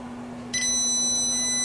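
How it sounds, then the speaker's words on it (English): A multimeter gives a continuity-test beep across a soldered fuse, a steady high electronic tone starting abruptly partway in and holding to the end over a low background hum. "Let's triple check continuity."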